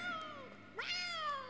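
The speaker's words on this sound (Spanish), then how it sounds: "Este es mi gato." A pet cat gives two drawn-out meows, close and clear, the second rising sharply, with faint background hum and no talking.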